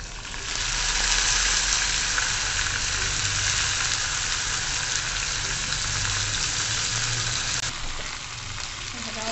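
Tender cluster beans sizzle steadily in hot oil as they are sautéed, a dense, even crackle close by that holds for most of the stretch, with faint stirring underneath.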